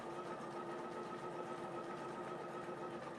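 A home embroidery machine stitching a butterfly quilt block, giving a steady, fast, faint mechanical whir with a constant rhythmic needle hum and no talk.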